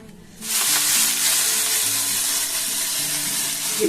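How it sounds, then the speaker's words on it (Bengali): Mashed cauliflower kofta balls dropped into hot oil, a loud sudden burst of sizzling that jumps in after a brief quiet moment and then holds steady, hissing and crackling close by with no talking. "এখন এগুলোকে আমি দিয়ে দেবো তেলে"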